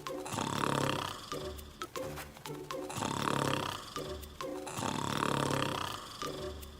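Loud, rhythmic snoring from a cartoon character mistaken for a bear in an animated children's cartoon dubbed in Asturian, three long rasping snores with short pauses between them and no talk.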